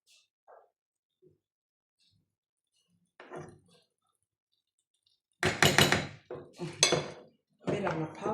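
Faint spoon scrapes and light clinks in a frying pan of cheese, sparse at first, then louder clattering stirring mixed with a voice talking.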